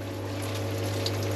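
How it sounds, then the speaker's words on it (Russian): Water runs gently from a tap inside a motorhome, a faint, steady trickle over a low constant pump hum. "Включаем мы чуть-чуть воду."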